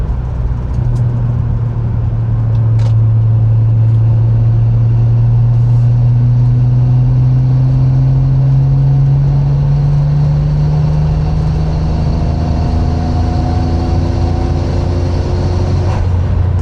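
A Nissan Stagea's engine with an aftermarket intake drones loudly from inside the car, pitch rising steadily under acceleration, then easing back to a lower, steady hum.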